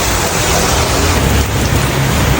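Heavy rain falls in a dense, steady hiss with a low rumbling undertone, loud and close, without voices.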